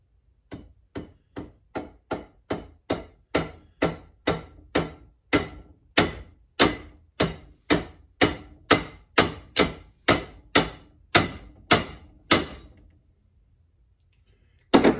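Steady metallic taps on a rear axle part to seat it, about two dozen sharp, evenly spaced strikes close up, then silence.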